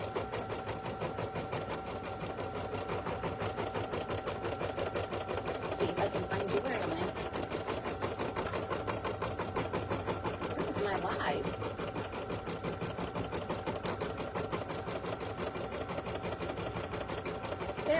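An embroidery machine sews an applique placement stitch on cutaway stabilizer, a steady fast mechanical chatter running throughout at an even level, with a voice talking over it at times.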